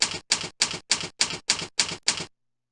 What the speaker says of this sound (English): those typewriter noises are my version of special effects